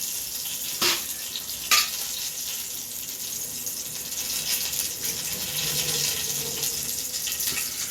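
Mustard seeds crackling and popping in hot oil in a pan while cooking a Tamil raw-banana curry, a steady fizzing sizzle with a couple of sharper pops near the start and no talking.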